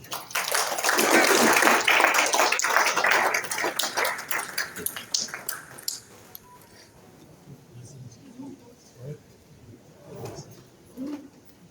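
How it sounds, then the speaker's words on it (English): Audience at a book launch in Mauritius applauding the author, a dense burst of clapping that swells loud for about five seconds, then thins and fades into scattered claps and room noise. "I will now invite the author, Mr. Assad Bagla, to address you under your applause."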